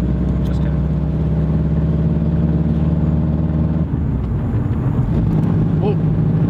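A broken-down Subaru with a struggling clutch, its engine running in a steady loud drone with wind buffeting the microphone and people talking over it.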